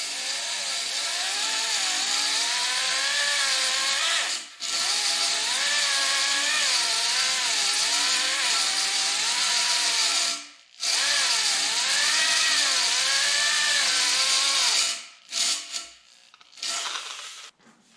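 A hone with abrasive stones works inside a cylinder bore of a Datsun 280Z engine block, a steady power-tool whine with rising and falling pitch sweeps as it strokes up and down, running continuously with a few brief stops.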